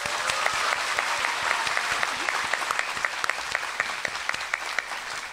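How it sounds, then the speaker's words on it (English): Dense, sustained applause from an audience at an evening Christmas celebration with Supreme Master Ching Hai, many hands clapping steadily at close range for several seconds, with a few faint voices in the crowd. "So let's give them a round of applause."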